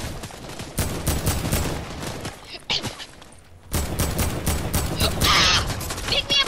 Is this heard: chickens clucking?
no